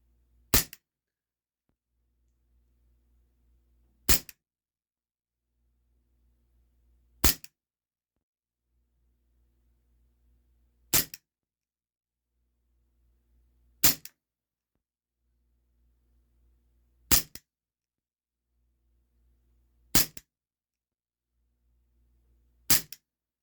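A Heckler & Koch USP 4.5mm Umarex air pistol fires eight sharp, crisp shots at a paper target, evenly spaced about three seconds apart, each a close snap with a brief trailing click, in near silence between.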